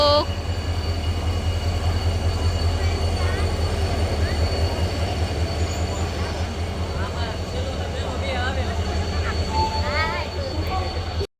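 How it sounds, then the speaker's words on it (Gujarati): A train pulls into Botad railway station, a steady heavy rumble of wheels and carriages filling the platform, with voices audible underneath. "ફાઇનલી બસ ફાઇનલી ટ્રેન આવી ગઈ છે"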